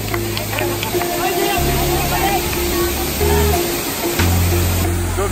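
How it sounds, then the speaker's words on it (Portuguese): Kawasan Falls in the Philippines pours with a loud, steady rushing roar of falling water and spray that fills the whole stretch, while people talk over it nearby. "Olhem essa cachoeira."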